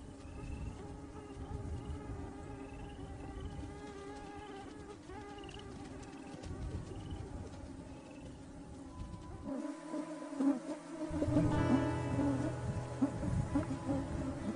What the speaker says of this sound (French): Les moustiques sont omniprésents.